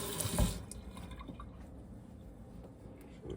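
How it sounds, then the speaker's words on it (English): Running water rinses an African De Endi sharpening stone, a steady splashing flow with a brief louder gush near the start, then a continuous close trickle and spatter. "I'm gonna give this a rinse"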